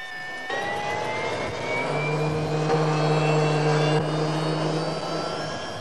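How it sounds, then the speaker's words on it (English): A steady, droning helicopter engine whine hums at moderate distance, holding constant with no voices. "The main hope now is that the noise of the helicopter will frighten him away."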